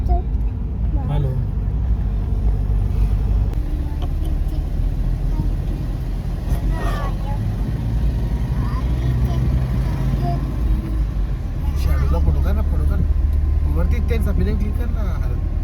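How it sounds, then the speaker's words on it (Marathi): City road traffic on a car trip from Mumbai, with a continuous engine rumble, cars and buses passing close by and a few brief horn-like tones, while people talk over the noise. "आता निघाली, ट्रॅफिक मधून निघालोय."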